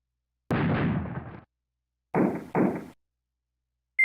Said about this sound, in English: Did y'all hear that guys explosion?